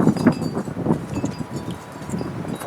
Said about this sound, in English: It's so windy outside.